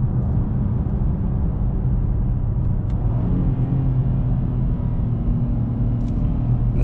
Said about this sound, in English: Downshifts are nice.